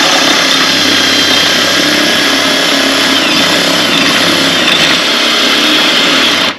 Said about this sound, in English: you want to drill it exact in that spot